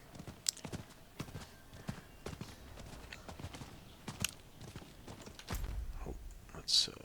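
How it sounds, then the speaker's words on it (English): Horse hooves clip-clop in a steady walking rhythm as a rider mounts up in the Diablo 4 video game, with scattered game sounds and someone talking over the top. "So we're just gonna hop on our horse."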